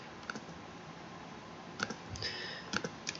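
Light, quiet computer mouse clicks land in a few separate taps and a short cluster as a checkbox and a Create button are selected, over faint room hiss with no talking.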